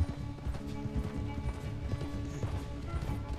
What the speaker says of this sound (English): O cavalo dele é bem mais lento, não tem nem graça.